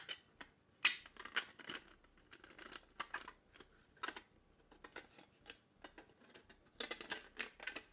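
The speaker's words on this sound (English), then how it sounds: "You should hear some nice clicky noises as the white clips into the shell properly" A white plastic piece is pressed into the shell of a Death Star desk lamp, giving a string of small, sharp, close clicks and snaps at irregular intervals, fairly quiet.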